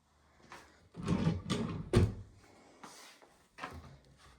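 Drawers in a home are slid open and shut several times in quick succession, each a close wooden rolling scrape ending in a soft thud, with short pauses between.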